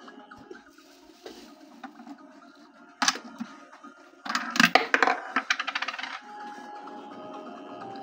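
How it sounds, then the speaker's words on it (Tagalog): A 5-peso coin drops into a piso wifi coin-op vending machine, giving a bright metallic clatter and a quick series of rattling ticks as it falls through the mechanism, heard close and alone over faint room noise. "Insert tayo ng 5 pesos."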